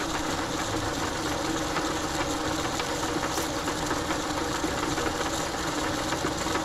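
A homemade VHS tape cleaner assembled from thrift store parts runs steadily, giving off a continuous close mechanical whir and rattle, like a small motor, with no breaks or talk.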